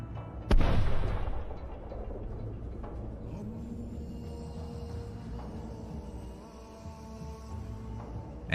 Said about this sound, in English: Then another flamethrower system was hit.